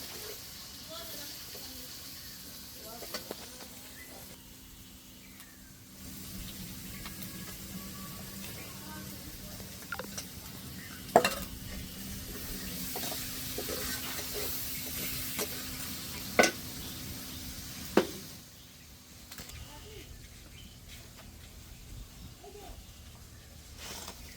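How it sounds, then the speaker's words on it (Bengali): Onion dropped into hot oil in a pan, a steady sizzling fry that runs throughout with occasional stirring scrapes and a few sharp clinks of a utensil against the pan. "তেল গরম হয়ে গেছে, পেঁয়াজ দিয়ে দিলাম।"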